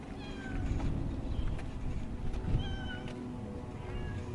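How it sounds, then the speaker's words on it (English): Several stray cats near the Gaza border meow and wail repeatedly in drawn-out, rising cries over a steady low rumble of background noise. "I'm just imagining like these cats be like some family's cats and now they're stray cats."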